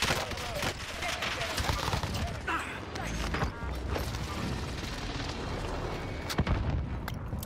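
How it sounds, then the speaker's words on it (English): Precision airstrike explosions in the video game Call of Duty Warzone deliver a barrage of heavy booms and cracking blasts that rumble continuously, with sharp louder hits near the start and end and faint voices mixed in. "Enemy precision airstrike. Stay alert."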